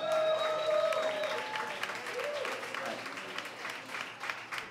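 An audience applauds at a live comedy show, a dense patter of clapping that stays moderately loud throughout, with a few brief tonal sounds near the start.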